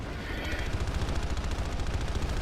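Dense rapid automatic gunfire from many players in the online shooter Planetside 2, a loud continuous rattling barrage of overlapping shots with no break.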